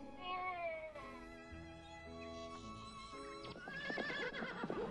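A horse lets out a loud, drawn-out whinny, followed by further neighs and some hoof clatter near the end, with no talking over it.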